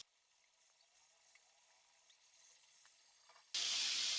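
Marinated chicken goes into a hot pan of onions for a khatta mittha chicken dish. After a faint, quiet stretch, a loud, sudden burst of sizzling hiss starts and continues steadily to the end.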